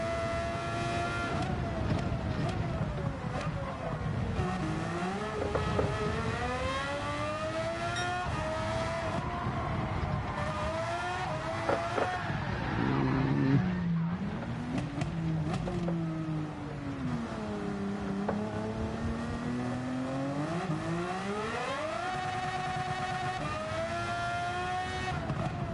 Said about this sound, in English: The rev limit on this thing sounds so sick.